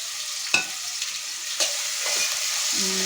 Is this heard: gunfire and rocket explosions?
no